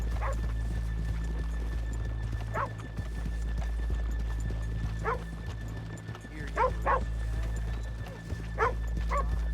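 Horses in Red Dead Redemption 2 whinny several times over a steady low hum, with short neighs spaced irregularly and no talking.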